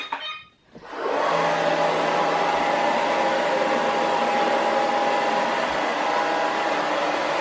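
Robotic vacuum cleaner running indoors on a floor scattered with makeup, a steady loud whirring motor hum with a faint tonal whine that starts up after a brief quiet moment and continues unbroken, no speech.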